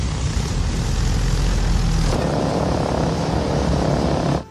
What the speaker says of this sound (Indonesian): Satu persatu mesin pesawat mulai dinyalakan.